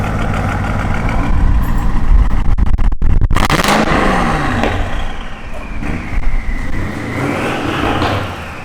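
Straight-piped, tuned BMW 650i with an N63Tu twin-turbo V8 idles loudly and close up, a steady deep rumble with a brief blip partway through and no talk over it.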